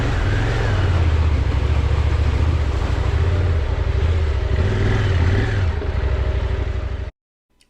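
KTM 390 motorcycle riding across to a parking spot on the Colorado backcountry route, its engine droning close and loud with rising and falling revs under heavy wind buffeting, cutting off abruptly near the end.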